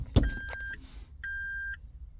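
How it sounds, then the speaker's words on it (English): Two steady electronic beeps from a Peugeot's transmission control module, each lasting about half a second, sound inside the car with a soft thump before the first one. "You heard the beeps from TCM."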